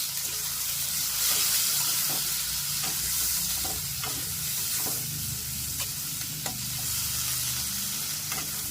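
Potato pieces sizzling in hot oil in a pan, stirred over and over, with an even frying hiss and repeated soft scraping strokes heard up close.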